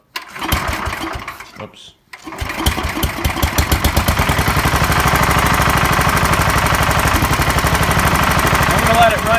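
Engine of a 1969 Sears SS12 garden tractor, freshly rebuilt with a new head gasket, cranks and fires on a warm restart, then settles into a loud, steady, close chugging run; a voice speaks briefly near the start.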